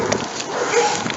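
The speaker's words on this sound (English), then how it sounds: "you kept barking at me" Dogs bark and yip close by in a brief, loud burst, with no one talking.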